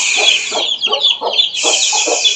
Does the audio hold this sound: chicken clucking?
yes